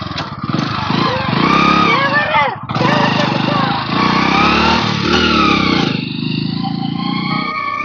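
A motorcycle engine runs loud and close, revving with a brief dip before pulling away steadily, while voices talk over it.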